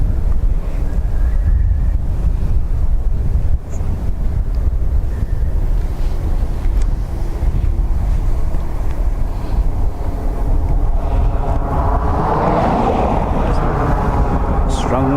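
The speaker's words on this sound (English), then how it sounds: "Strong wind there" Strong wind at Dublin Airport buffets the microphone in a constant, loud roaring rush for the whole stretch, with a low rumble beneath and a brief swell near the end; no clear talking is heard.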